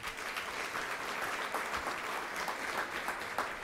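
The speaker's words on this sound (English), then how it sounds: "And I think that deserves a round of applause." Audience applause at a Pancakes & Politics forum, a steady dense wash of many hands clapping that holds evenly for a few seconds with no voices on top.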